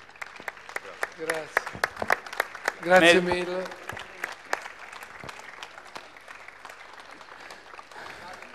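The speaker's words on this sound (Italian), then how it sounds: "Un applauso." Audience applause breaking out at an award presentation, a few seconds of clapping with a brief louder swell and cheers, then a voice speaking over lighter scattered claps as the presenters carry on.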